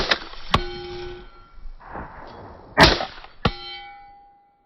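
A suppressed budget AR-15 rifle fires several sharp, loud reports, each followed by metallic ringing clangs as brass casings eject and strike nearby surfaces, with no talking.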